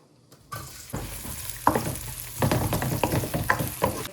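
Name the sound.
onion sizzling in hot oil with cumin for pav bhaji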